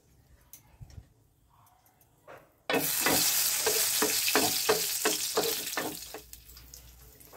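Two dried red chilies dropped into hot white cooking oil burst into a loud, crackling sizzle after a quiet start with faint kitchen clatter, the frying staying strong with rhythmic stirring scrapes before easing slightly toward the end.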